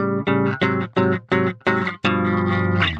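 A bass plays a dominant seventh chord voiced without the fifth, struck in a steady series of sustained chords with a longer held chord at the end, close and alone with no talking.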